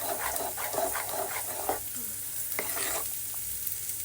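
Paneer and bottle gourd batter sizzles on a hot pan over a full flame, a soft steady hiss with scraping spreading strokes early on.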